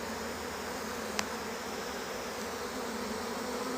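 A continuous, faint honey bee buzz hums under a steady background hiss, with a single brief click partway through.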